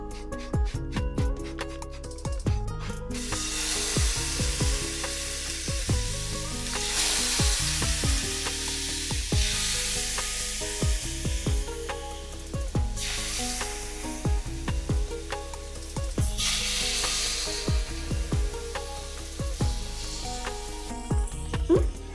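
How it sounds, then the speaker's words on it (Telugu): Fish frying in hot oil in a pan, a steady close sizzle that swells and fades in waves as pieces are added or turned, with clinks of a utensil and a low background hum throughout. "ఇది మళ్ళీ ఫ్రై చేసుకుందాం."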